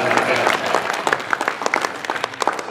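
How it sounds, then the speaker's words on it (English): Audience at a WhoFest convention panel breaking into loud, dense applause close by, a sustained crowd clap with some cheering voices mixed in throughout. "Give him a round of applause for that"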